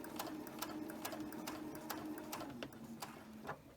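A sewing machine stitches quilt heart blocks in rapid, evenly ticking bursts with brief pauses, close and fairly quiet, with no talk.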